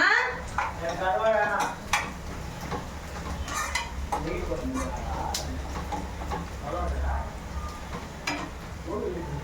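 Onion and garlic fry in oil in a pan with a soft sizzle beneath clinking and scraping of a stirring utensil, while a person talks intermittently nearby.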